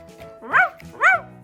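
Two clear, separate woofs from a cartoon dog in a house-building game, fairly close and loud, with soft game sounds in between.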